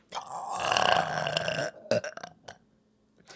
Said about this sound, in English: let me do one for you because I do burp on command